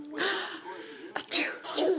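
A young boy sneezes, a quick close sneeze burst following a breathy intake, with a brief vocal sound before it.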